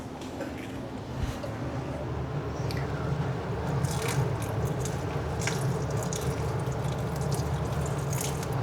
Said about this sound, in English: but let's water it.